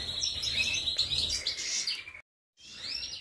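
Goldfinches and canaries sing together in a rapid, high chirping and twittering chorus, loud and close, with a brief pause before the song resumes.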